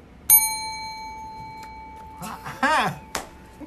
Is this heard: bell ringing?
yes